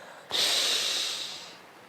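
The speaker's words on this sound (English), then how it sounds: "Take a deep breath in now." A single deep breath in, drawn long and hissing through the nose and mouth, close and loud, starting abruptly and fading over about a second with no talking.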